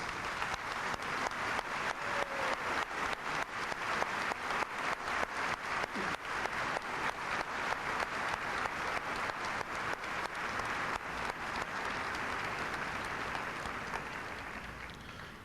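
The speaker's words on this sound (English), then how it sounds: "ask all the members of the class, the graduating class of 1944, to please stand and accept our applause today" Sustained applause from a high school commencement audience honoring the graduating class of 1944 at Wadsworth High School, a dense wash of many hands clapping steadily for about fifteen seconds before tapering slightly at the end.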